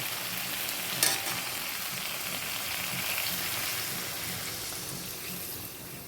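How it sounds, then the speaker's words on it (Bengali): Water poured into a sizzling tomato-based masala for a chital fish curry, producing a sudden hiss around the one-second mark that settles into a steady bubbling simmer, close and moderately loud. "এবার আমাদের কষানো হয়ে গেছে, জল দিয়ে দেব।"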